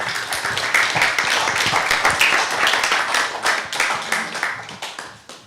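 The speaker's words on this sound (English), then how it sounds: "give them a round of applause as they do so" An audience at a Liverpool arts and science talk claps as two speakers come to the front, steady close clapping from a modest crowd that tapers off toward the end.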